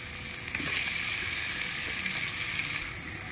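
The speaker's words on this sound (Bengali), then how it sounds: "মশলা ভালো করে কষানো হয়ে গেছে, ভেজে রাখা পটল আর আলু আমি দিয়ে দিচ্ছি।" Fried pointed gourd and potatoes sizzle in a pan of cooked-down spice paste for potoler dalna, a steady, dense hiss of frying that holds evenly throughout, close and moderately loud with no talking.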